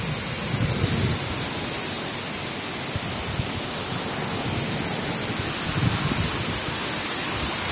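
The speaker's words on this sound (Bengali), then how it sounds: "এই বৃষ্টি" Steady rain pours in a dense hiss, with low thunder rolling faintly underneath at a couple of points.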